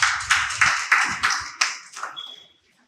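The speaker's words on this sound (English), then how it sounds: "Abeg make Mpape people clap for themselves." Audience at a Nigerian electricity customer engagement forum in Mpape clapping briefly, a handful of sharp, fairly near claps in loose rhythm that thin out and stop, followed by a faint tone.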